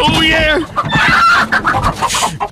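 A voice imitates a hen clucking in a comedy sketch, with rapid, exaggerated clucks and squawks in a burst of a couple of seconds, close and loud.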